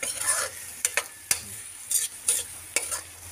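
Food frying in a pan hisses and crackles steadily while a utensil stirs it, with soft clanking scrapes at irregular intervals, close by and with no talking.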